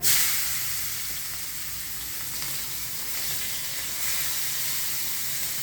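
Fenugreek seeds crackle and sizzle in hot tempering oil for a bitter gourd curry, a loud, steady frying hiss with fine popping throughout, heard close up with no talking.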